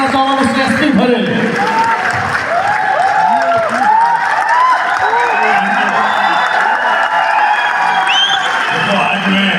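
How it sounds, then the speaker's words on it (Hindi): Large indoor audience at a motivational gathering breaks into loud, sustained applause with cheering and whoops, a dense continuous roar of clapping filling the room while voices call out over it. "एक बार जोरदार तालियां, कम ऑन एवरीवन।"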